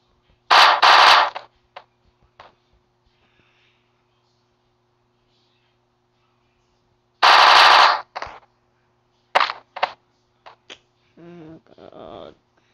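Machine gun fire in the video game Melon Playground, two loud sustained bursts separated by silence, followed by shorter shots and clanks, with a bit of game voice sound near the end.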